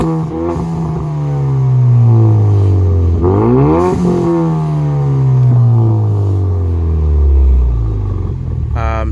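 A Ford Mustang EcoBoost with a catted MBRP turbo downpipe and full 3-inch MBRP race catback exhaust revs repeatedly, the engine note rising and falling through several loud, rumbling sweeps close by.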